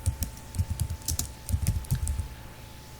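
Rapid clicking of computer keys as a C program is typed, coming in uneven bursts of close, crisp keystrokes with short pauses, and no voices.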